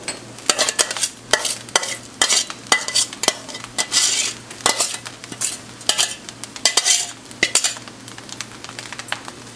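Vegetables stirred into Indian-style Chinese fried rice in a pan, with a ladle repeatedly scraping and clinking against the metal over a faint sizzle, in a steady irregular rhythm close up.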